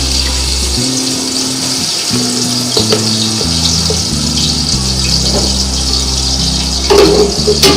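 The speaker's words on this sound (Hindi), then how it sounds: "सिर्फ मुझे इसमें ये मसाले थोड़े से फ्राई करने हैं।" Whole spices and ginger-garlic paste fry in hot oil in a pot for beef biryani, a loud steady sizzle with a low hum running beneath it and a few clinks near the end.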